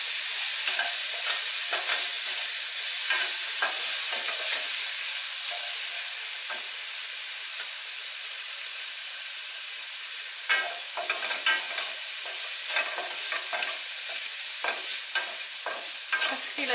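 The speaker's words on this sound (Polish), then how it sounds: "teraz smażymy cebulkę i szczybiorek" Onion and chives sizzle and crackle steadily in a hot pan, with irregular pops and spatters throughout and no talking.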